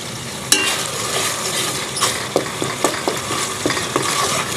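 Tomatoes fry in a pan for a taro root (arvi) curry, a continuous sizzle broken by sharp scraping stirs and occasional spatula knocks, close and with no talking.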